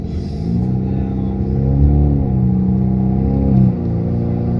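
A 2017 Chevrolet Camaro with a turbocharged four-cylinder engine revs and accelerates on the street, a loud, close droning hum whose pitch climbs steadily, dips briefly, then climbs again before easing off.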